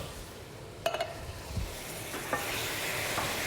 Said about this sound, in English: And give that a good stir.